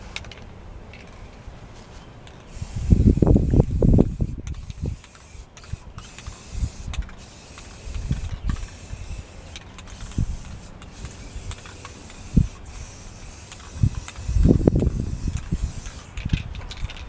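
Spray paint can coating van wheels green, with several separate hissing bursts of a few seconds each set among quieter scraping and handling noises nearby.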